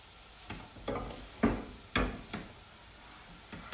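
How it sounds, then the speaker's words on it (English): Carrot halwa being stirred in a pan over a high flame, with a series of separate scraping, clattering strokes roughly every half second to second, close and moderately loud, no talking. "keep stirring it"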